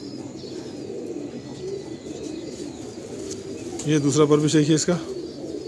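Salara Teddy pigeons coo softly in a loft, a low burbling call that swells loudest near the end, while someone talks over the birds throughout.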